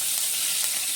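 Asafoetida dropped into hot oil gives a steady, close, bright sizzle and hiss that holds evenly throughout, with no voices.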